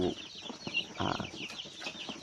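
Four-week-old Roman Brown laying hens cluck and chirp together as a busy, close flock, with overlapping short calls and some rustling.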